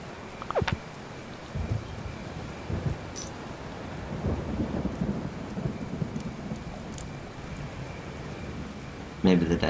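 Steady rain falls in the video game Kingdom, with soft, low rumbles of thunder rolling underneath and a few sharper crackles toward the end. The sound is fairly quiet and continuous.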